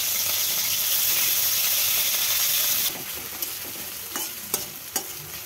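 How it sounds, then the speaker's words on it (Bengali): Sliced onions fry in oil in a pot for biryani birista during an outdoor picnic, a loud steady sizzle and hiss that drops to quieter crackling with a few scraping stirs, no talk. "পেঁয়াজ ভেজে পেঁয়াজটাকে বেরেস্তা বানাতে হবে"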